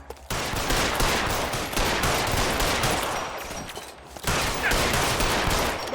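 Shootout gunfire in the video game LA Noire: dense, continuous volleys of loud shots roar almost without a break, dipping briefly once before resuming at full intensity.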